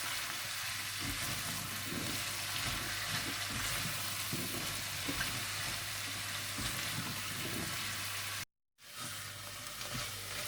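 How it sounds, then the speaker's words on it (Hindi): Chopped zucchini frying in a pan for soup, a steady close sizzle with intermittent scraping and stirring strokes, broken by a brief silent gap near the end before the sizzling resumes. "और इसे अच्छी तरह से मिला लें और इसे भून लें यहाँ तक कि ये अच्छी तरह से गल जाए।"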